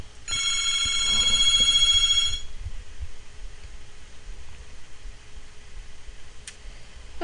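A phone ringtone plays an electronic, tonal ring for about two seconds at a steady level, then cuts off and leaves faint room hiss.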